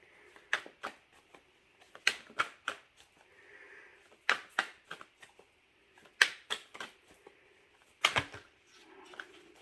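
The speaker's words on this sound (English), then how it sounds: "this is the last time that I'm going to shuffle" A deck of cards is riffled and bridged in quick bursts, several crisp shuffles separated by short pauses, close and fairly quiet.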